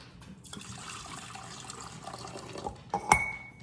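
Warm water is poured into a bowl for pretzel dough, a soft trickling splash that swells toward the end with a brief clink of the cup against the bowl, quiet overall.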